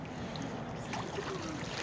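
A kayak glides across water on a zoo kayaking trip, with a faint, steady wash of water and gentle movement and no distinct splashes.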